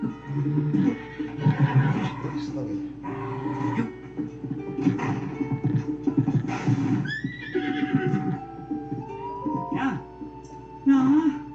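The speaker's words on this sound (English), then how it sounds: "Got me a horse finally, but it's the slowest horse." A horse in Zelda: Tears of the Kingdom neighs and whinnies repeatedly amid game sounds and music, with someone talking over it at moderate volume.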